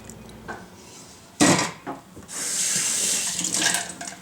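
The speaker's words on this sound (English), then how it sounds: "So now we're just going to put in a little bit of milk." Milk, a cup of it, poured into a bowl of tea biscuit mix makes a close, splashy liquid stream, with a sharp knock near the start and a steadier pour for about two seconds at the end.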